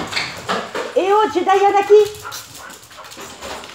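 Pet dogs indoors bark and whimper in a run of high, wavering yelps lasting a couple of seconds, close and loud, while a person speaks over them.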